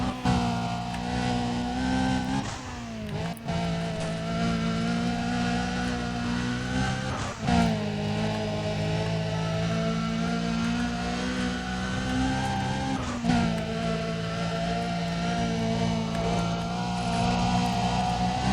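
Race car engine in Need for Speed: Undercover during a sprint race, a loud sustained drone with repeated rev rises and drops at each gear shift, steady throughout.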